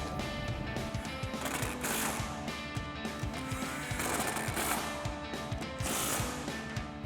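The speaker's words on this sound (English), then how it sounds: "we'll grab our impact and 13 millimeter socket and tighten them down." An impact wrench fitted with a 13 mm socket tightening bolts on a Camaro front suspension, a loud, dense, continuous mechanical rattling hammer that runs without pause.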